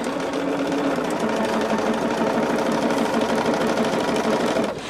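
Sewing machine running steadily at close range, a continuous mechanical whir with rapid needle chatter and a faint hum, stopping abruptly at the end.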